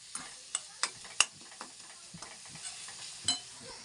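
Egg bhurji stirred and fried in a pan: a soft, steady sizzle broken by sharp scraping clicks of a utensil against the metal, several distinct strokes in the first seconds, then quieter stirring.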